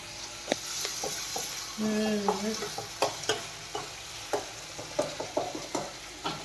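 Onion and tomato fry in hot tempering oil for dal fry, a steady sizzle broken by sharp scrapes and clinks of a spoon stirring the pan, close and alone with no talk.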